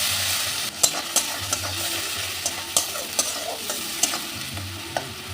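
Chopped onion sizzles steadily in hot oil in a pan, punctuated by about a dozen sharp scraping stir strokes at an uneven rhythm, close and fairly loud with no talking.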